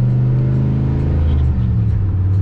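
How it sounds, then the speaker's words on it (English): A big single-turbo race car on E85 with a cam, drag radials, steady loud engine drone with a low rumbling tone holding throughout, close and continuous. "now it's turned into a big single turbo car"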